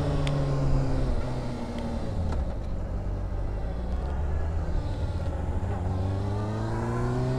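A 2009 Honda CBR 600RR 600cc sport motorcycle engine pulling under throttle on the road, a loud, close, continuous drone whose pitch climbs and dips as it revs, with no talk.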